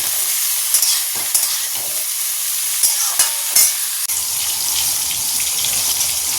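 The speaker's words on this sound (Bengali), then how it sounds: "সবজি বলতে আলু, বেগুন, পেঁয়াজ, কাঁচা লঙ্কা দিয়ে এবার ভালো করে নেড়ে ছেড়ে ভাজা ভাজা করবো।" Bitter gourd, potato, eggplant, onion and green chili sizzle loudly in a pan as they are stirred, a bright hiss with a few sharp scrapes and knocks that settles into a steadier frying noise.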